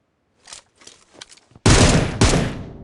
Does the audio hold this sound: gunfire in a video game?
yes